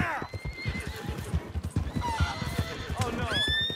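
Horse whinnies and rapid hoof clip-clops in the Red Dead Redemption 2 video game, a steady galloping rhythm with rising neighs near the start and end, loud and close, with a voice speaking briefly over it.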